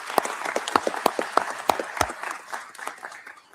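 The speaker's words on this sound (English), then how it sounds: "I will ask for a round of applause for the panelists and all of your contributions this morning." Scattered applause from a conference audience after a UN panel session, with sharp individual claps standing out early and thinning into softer, sparser clapping toward the end.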